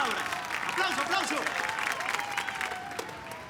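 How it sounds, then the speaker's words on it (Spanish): An audience applauds at an event as two people are called up to the stage, a dense, steady wash of clapping lasting a few seconds with voices mixed in. "¡Aplauso, aplauso!"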